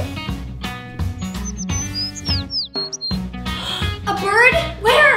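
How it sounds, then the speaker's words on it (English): Small bird chirping in short high tweets through the middle of the clip, set among children talking and other voices. "Oh, it's just a bird!"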